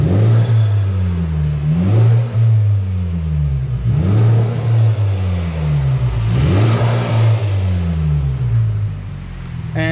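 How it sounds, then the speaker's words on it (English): A 2018 Honda Civic Type R with its factory intake and the hood closed revs repeatedly in loud, close bursts, the engine climbing and falling several times over a steady idle. "I'm gonna do a little clip of the factory intake with the hood closed."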